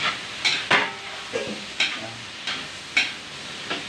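Tough broccoli stems fry in a pan, giving a soft steady sizzle broken by several sharp close clicks and scrapes from stirring, with no voices.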